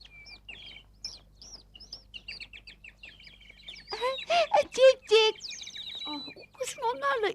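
A flock of birds chirps and tweets in quick, high calls, with a few clucking notes, while voices speak over them in the second half.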